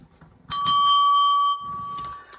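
A small hand bell is struck once and rings with a clear, sustained metallic tone that slowly fades, followed by a fainter second tap near the end, close and alone.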